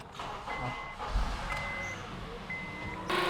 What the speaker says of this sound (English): Let's turn the car back on and try that whole process again.